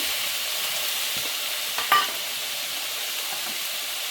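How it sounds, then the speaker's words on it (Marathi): Bell pepper, carrot, soaked chana dal and corn kernels are stir-fried in a pan with a steady, close hissing sizzle. One brief clink of a utensil sounds midway, and no voice is heard. "ढोबळी मिरची टाकायची, ढोबळी मिरची चांगली परतून घ्यायची।"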